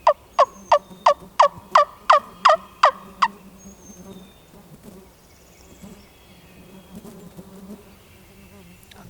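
A wild turkey on an Alabama ridge top in spring gives a quick run of about eight sharp, evenly spaced calls, fairly close, then the woods fall to a quiet low rustle.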